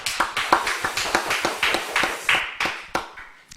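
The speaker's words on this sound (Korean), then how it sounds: "우리 하나님께 영광의 박수 올려드립니다." A church congregation at a Sunday afternoon service claps together in an uneven patter of overlapping hand claps that tapers off near the end.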